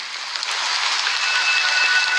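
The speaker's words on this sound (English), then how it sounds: "But it's still raining." Steady rain falls in a Honkai: Star Rail game scene, a dense, even hiss throughout with no voices over it.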